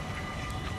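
A far-off train rumbles as a continuous low, steady roar through a city street in Vlaardingen in the Netherlands, with no voices over it.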